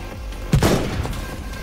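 Gunfire from enemies shooting at the player in Final Fantasy XV, a sharp burst of shots near the middle of the clip over a low steady game rumble, with a few fainter shots trailing after.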